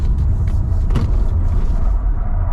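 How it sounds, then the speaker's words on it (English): A Hyundai IONIQ 5 electric car accelerates along a road with traction control off, a loud, close, deep rumble of road and wind noise throughout, with no speech. "Let's run the same stretch of road in the IONIQ 5 and see if it's better."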